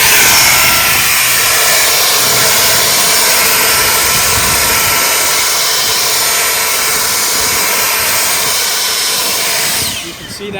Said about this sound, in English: if we've got like pea gravel or something that we want to move and blow, we want to use the flat nozzle.